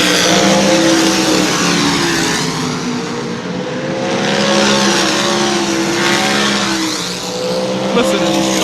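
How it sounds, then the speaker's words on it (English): Sprint race cars at New Smyrna Speedway roar past in a sustained, loud engine drone that rises and falls as the pack circles the track, with no other sounds breaking through. "Listen to these cars. It's an absolutely beautiful sound to hear them."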